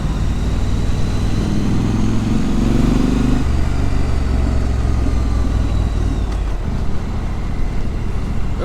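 Triumph Scrambler motorcycle engine running steadily with a deep, low-pitched rumble, loud and continuous throughout with a slight shift in tone partway through.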